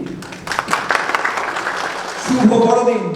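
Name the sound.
congregation clapping loudly in church service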